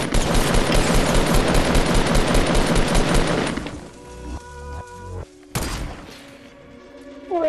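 Rapid, loud gunfire from the video game Fortnite, a dense volley of shots for about three and a half seconds, then quieter game sounds with a few scattered bursts.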